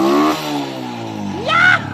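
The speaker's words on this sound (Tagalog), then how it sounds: "So yun, guys, one kick ng kanyang motor" A Honda Wave 100 motorcycle engine, started with one kick after trouble starting, runs with a steady throbbing hum, then briefly revs up near the end before settling back.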